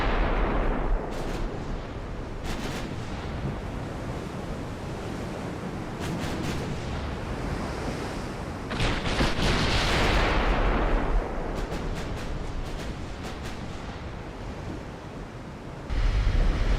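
Naval artillery fire from a warship battle against destroyers and a battleship in Ultimate Admiral: Dreadnoughts, with repeated heavy booms rolling over a constant wash of sea and wind, several sharp reports clustered together, loud and sustained.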